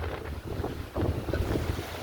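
Dry wind gusts across a corn field, a steady rushing roar with buffeting microphone wind noise that swells louder in the second half.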